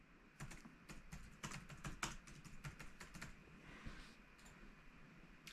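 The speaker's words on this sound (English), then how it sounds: "so we're going to go ahead and type that in." Rapid clicking of fingers on a computer keyboard, steady and close, with no voices.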